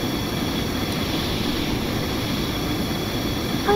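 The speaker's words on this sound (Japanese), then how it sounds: "ジェット独特のエンジン音です。" Steady, loud roar of a jet engine mounted on a container-transport seaplane in Stormworks, a continuous broadband whine and rumble holding level from start to finish with no talk.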